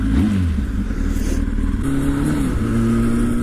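A motorcycle engine revs close by in short surges, its pitch swooping up and down between steady idling stretches, with no talking.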